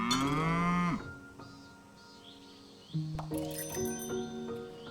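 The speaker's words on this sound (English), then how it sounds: "You feed the cow, she gives you some milk." A cow in a video game farm gives a long, loud moo, then a quiet pause, followed by bright game chimes and tones that ring out together.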